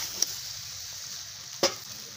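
Chicken pieces go into a hot pan and are stirred and fried with potato, a steady soft sizzle with two sharp stirring clacks, no voices.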